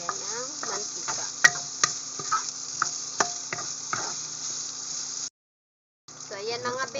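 Spam sizzles and is stirred in a pan while cooking for spicy shrimp fried rice, with steady frying hiss and sharp clicks of a utensil scraping the pan, interrupted by a short gap before the sizzle resumes.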